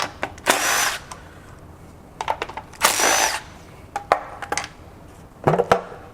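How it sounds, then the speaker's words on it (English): A power tool zips bolts out of the oil pan on a blown Lexus LS460 1UR 4.6-liter V8 during a teardown, giving loud close whirring bursts about a second long, separated by shorter clicks and clanks from the work. "So I think we're gonna get these 2 bolts out and this pan will just lift off."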